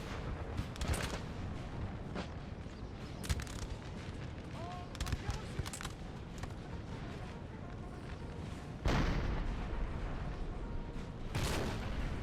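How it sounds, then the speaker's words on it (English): Artillery fire in a Napoleon: Total War 4v4 clan battle, heard as dense, continuous rumbling cannon booms and volley cracks layered through a busy battlefield din, with a heavier burst near the end. "My artillery, I think, is trying to focus down any units, elite units, that I can"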